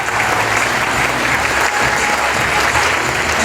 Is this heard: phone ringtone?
no